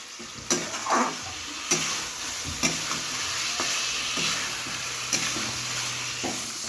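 Spice paste with turmeric and potatoes is sautéed in a pan for a small-fish curry, a close, steady sizzle broken by regular knocks and scrapes of a spoon stirring every second or so.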